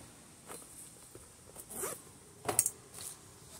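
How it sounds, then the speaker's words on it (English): A few short zipper pulls rasp nearby in quick bursts as a duffel shoulder bag opens, with brief pauses between them in a quiet room. "it has this zipper that opens up the whole thing."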